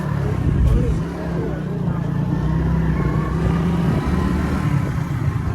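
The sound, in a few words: motorcycle engine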